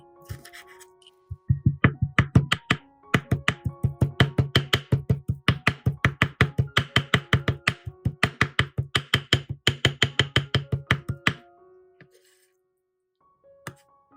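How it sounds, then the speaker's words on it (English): A knife chopping banana peel into small pieces on a cutting board, with steady, rapid taps in a long even run that ends in a couple of isolated knocks. "take the banana peel and use a knife to cut it into small pieces"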